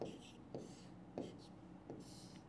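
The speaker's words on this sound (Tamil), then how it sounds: "நான் கையில் வரைகிறேன்" A pencil sketching freehand on paper gives quiet scratchy strokes in short bursts about every half second, close and faint, with soft whispery sounds between them.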